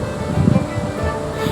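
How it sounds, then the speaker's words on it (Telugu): A mixer grinder whirs as it blends fried onions and peanuts into a paste, a steady close motor drone with a brief rougher churn near the start. "ఇప్పుడు మెత్తటి పేస్ట్ లాగా మిక్సీ పట్టేసుకుందాం"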